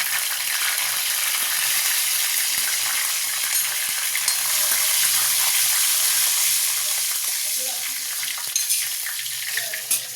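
Whole garam masala and cumin seeds sizzle hard in a little oil in a kadai, a loud continuous crackle close by with occasional stirring scrapes and a few sharp pops toward the end.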